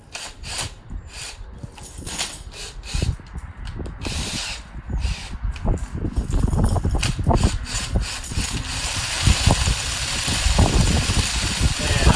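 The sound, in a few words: flex shaft tool spinning in reverse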